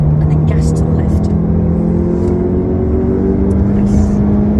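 A Volkswagen Golf GTI Mk8 pulls hard on the Nürburgring circuit, its steady engine drone rising in pitch as it accelerates, close and loud beneath an instructor's talk.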